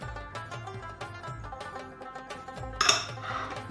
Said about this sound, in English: So now I mix all the spices all together.